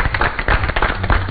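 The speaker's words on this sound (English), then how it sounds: "So give him a round of applause" Round of applause for a football team's vice captain at a Monday football session: close, dense clapping from a small group, steady and loud throughout.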